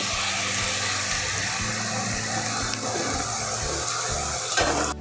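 Veg hakka noodles are tossed and stir-fried in a hot pan, giving a steady close sizzle with scraping and stirring noises and no talk.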